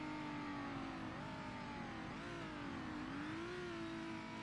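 A car engine in the video game DayZ revs steadily at high pitch, rising and dipping slightly in tone, loud and continuous with no other sounds.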